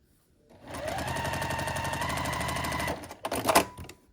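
A sewing machine stitches quilt block pieces, dark blue fabric over light blue, in one steady close whirring run of about two and a half seconds, followed by a few sharp clicks as it stops.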